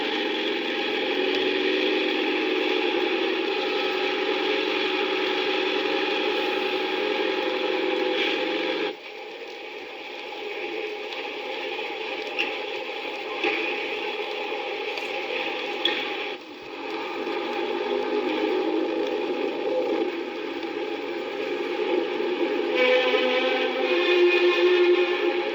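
Model diesel locomotive running on a model railway, a sustained mechanical whirr with gear-like ticking and humming tones, steady and fairly close, with a couple of brief drops in level, no talking.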